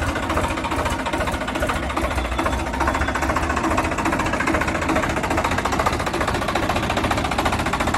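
A Swaraj 855 tractor's diesel engine runs steadily close by, giving a loud, even, rapid knocking chug with a continuous mechanical clatter across the whole stretch.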